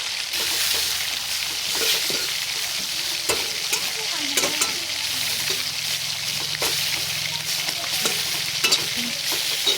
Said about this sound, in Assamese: এতিয়া আমি শাকখিনি 2 মিনিটমানৰ কাৰণে ভাজি ল'ব লাগিব।